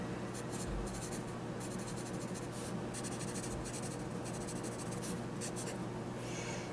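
A Pelikan Triangular Mediano pencil scratches across paper in repeated short strokes with brief pauses, close and steady over a constant low background hum.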